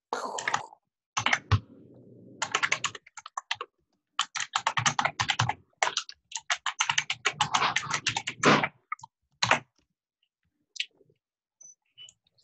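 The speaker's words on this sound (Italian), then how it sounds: "quando scrivi sulla tastiera, non la sfondare" Rapid clacking of keys on a semi-mechanical computer keyboard during a live trading session, in dense bursts separated by short pauses, fairly close and alone without talk.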